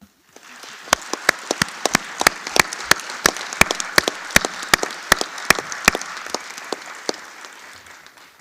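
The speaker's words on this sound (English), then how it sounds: "can we just give a round of applause to the speakers and the presenters?" Scattered sharp individual claps ring out over a soft dense patter of applause from a conference audience thanking speakers and presenters, the loud distinct claps arriving unevenly and thinning toward the end.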